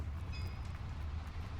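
A subway train rumbles past in the video game Hogwarts Legacy, a steady low roar with a brief high squeal partway through, continuous and fairly loud throughout the short moment.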